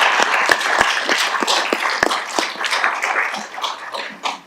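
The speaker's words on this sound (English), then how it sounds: "I'm going to give you a round of applause for" Audience applause in a city council chamber, loud and close with sharp individual claps standing out from a dense crowd of clapping that holds steady throughout with no talk.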